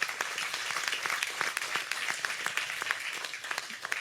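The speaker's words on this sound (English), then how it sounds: "Give a hand of applause to yourself." A graduation ceremony audience claps in sustained, dense applause, a broad crackle of many hands holding steady for several seconds with no voices on top.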